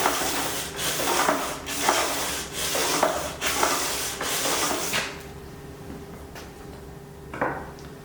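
Abrasive scuffing of FRP pultrusion glue surfaces before adhesive assembly, a run of loud rhythmic rasping strokes, close up, that stops abruptly halfway, leaving quiet room tone with one short scrape near the end.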